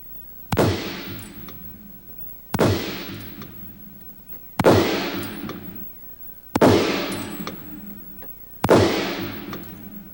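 Five loud rifle shots from Hornady reloaded rounds fired at a 100-yard range, evenly spaced about two seconds apart, each a sharp crack followed by a decaying echo.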